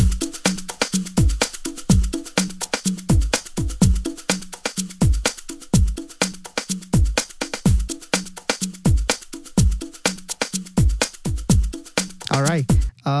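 Stacked percussion loops of maracas and congas playing together in Logic Pro, a dense, steady rhythmic groove of sharp shaker hits over deep hand-drum thumps, loud and continuous with no talking.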